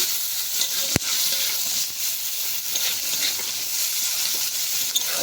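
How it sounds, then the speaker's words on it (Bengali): Chopped onion frying in a wok for a crab curry, giving a steady, close broadband sizzle throughout, with one sharp click near the start. "পেঁয়াজ কুচিটা ভালোভাবে ভেজে নিচ্ছি আমরা"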